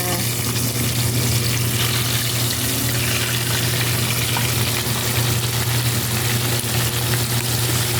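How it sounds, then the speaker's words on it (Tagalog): Steady, dense sizzling of fish frying in hot oil in a pot, close and continuous, with a low hum underneath. "Magpiprito na tayo ng isda."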